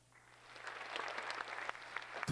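Applause for a school superintendent at a high school senior awards ceremony, clapping swelling gradually from soft to fuller over two seconds in a large hall.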